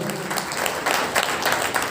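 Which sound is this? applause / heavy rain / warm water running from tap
applause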